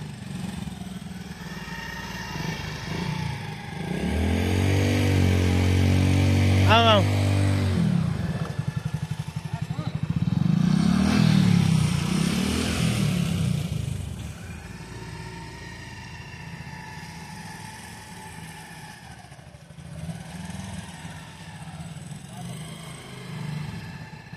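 A scooter ridden on a motorcycle trial course in Nepal, its small engine humming and revving in bursts close by, with a voice calling out over it.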